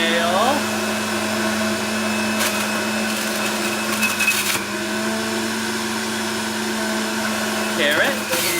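A Breville juicer grinds kale and celery with a steady, loud motor whine and harmonic drone, punctuated by brief louder crunching bursts as greens are pushed through.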